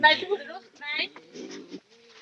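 Pigeons at a home loft give soft cooing and bird calls, close by and moderately loud, mixed with people talking.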